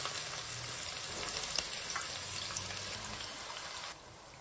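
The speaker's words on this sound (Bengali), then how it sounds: "এবার পুরো পেঁয়াজ কুচিটা দিয়ে দেবো আস্তে আস্তে, প্রচুর গরম করে।" Chopped onion going into very hot oil with whole garam masala, a bright continuous sizzle with faint stir taps, close and steady, dropping to a quieter hiss near the end; no one talks.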